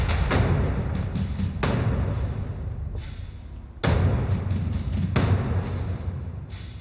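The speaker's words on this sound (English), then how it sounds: "we have big toms, which is going to be like the lower frequencies, mid toms, obviously mid, and then we have metals and just over like huge drums" Orchestral percussion of big toms, mid toms, metals and huge drums hits in heavy, booming strikes every second or so, each blow loud with a long decaying tail and metallic shimmer over a steady low rumble.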